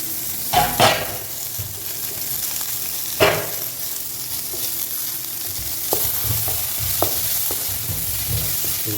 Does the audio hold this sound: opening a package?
no